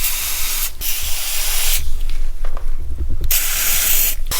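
Aerosol spray can, brand new, spraying penetrant onto the rusted bolts of a Bel Air car frame: several loud, close hissing bursts separated by short pauses, with faint clanking in the gaps.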